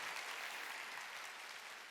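Distant applause from a church congregation during a Wednesday worship service rattles in a steady, even wash of many clapping hands, faint and continuous.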